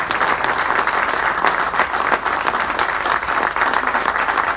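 Steady crowd applause at a memorial honoring Cacique Julio Di Palma in Monteros, dense and loud clapping sustained throughout without pause.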